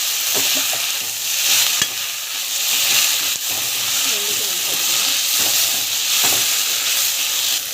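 Urad dal with coriander and mint leaves being sautéed in a pan, a steady close sizzle and hiss with scattered scraping and stirring clicks throughout.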